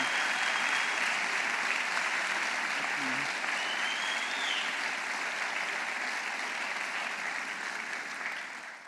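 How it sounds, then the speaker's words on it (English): Sustained applause from a concert audience at a faculty chamber music concert, dense steady clapping filling the hall throughout and tapering slightly at the end, with no speech. "we give them a warm round of applause"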